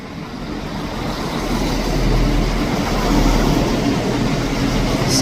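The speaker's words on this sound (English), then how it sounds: "Arriving in now is the 11:11 Scotrail service to Edinburgh Waverley." Scotrail diesel train from Dundee arriving at Edinburgh Haymarket station, a low rumbling engine and wheel noise swelling steadily louder as it draws into the platform.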